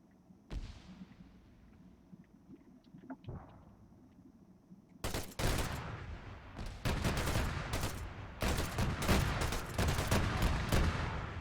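Gunfire aimed at the player in a video game: a single early shot, then dense bursts of rapid automatic fire and heavy volleys from about midway on, loud and continuous with no talk over them.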